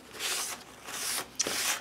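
Sandpaper rubbed over an acrylic-painted book page, two or three soft raspy strokes up close with brief pauses between them.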